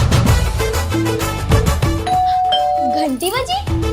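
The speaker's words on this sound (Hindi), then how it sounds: "घंटी बजी?" A doorbell chimes repeatedly over loud background music and voices, with tonal ding-dong notes sounding several times through the clip.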